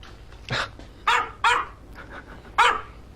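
A dog barks four times in short, loud, separate bursts, close by, with quiet pauses between them and no talk.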